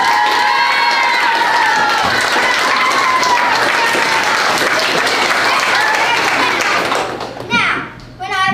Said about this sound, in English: I'd like you to applaud as loudly as you can.